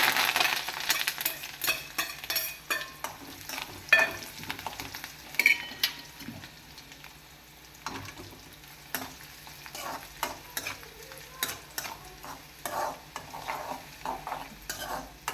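Garlic, ginger and curry leaves frying in a pan for a Kerala banana-stem and date pickle, with steady sizzling and repeated scraping stirs of a spoon against the pan, fairly close, with no talk.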